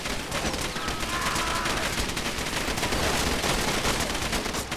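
Ammunition cooks off in the video game Far Cry 2, producing a dense rapid crackle of popping bursts like sustained gunfire, loud and continuous with no pauses.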